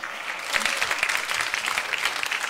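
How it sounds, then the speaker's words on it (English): An audience claps steadily on a TV3 Mentor Reloaded eviction night show, a dense patter of applause that holds at an even level, moderately loud, with no voices over it. "Please just give her a big round of applause."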